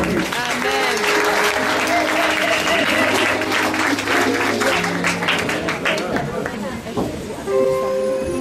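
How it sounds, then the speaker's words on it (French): A crowd at an evangelical church conference erupts in loud, sustained applause and cheering, with shouting voices and music layered over the dense clapping throughout. "Acclamez très fort pour Jésus"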